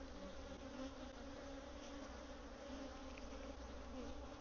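A steady, close hum of honey bees fills the air over an open hive frame of worker brood with the queen on it, an unbroken droning buzz with no voices.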